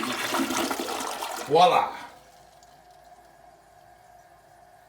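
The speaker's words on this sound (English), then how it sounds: "I fixed the crapper flapper, and now we have a functioning toilet once again." A home toilet flushes after its flapper was repaired: one loud gurgling whoosh rises under a man's brief speech, then fades into a steady, quiet tank-refill hiss.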